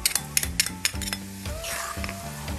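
Onions frying in oil with garlic, ginger, salt and pepper in a pan for butter chicken, a steady sizzle running throughout, with several sharp clinks and scrapes of a utensil stirring against the pot, no talking.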